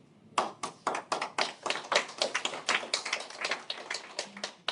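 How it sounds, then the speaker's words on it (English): An audience at a crypto event in a Dubai hotel ballroom claps in a loose burst of distinct, sharp hand claps that rise quickly, hold for a few seconds and then thin out, with no talking. "The way you clap as if you don't believe me"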